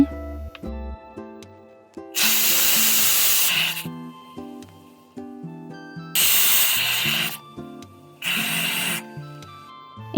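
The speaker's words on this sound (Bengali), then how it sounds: "প্রেশার কুকারে ডালটা সিদ্ধ হতে আমার মোটামুটি দুই মিনিট সময় লেগেছে" A pressure cooker boiling lentils (dal) vents in three loud bursts of steady hissing steam, each lasting one to two seconds, with quieter kitchen clatter and background tones between them.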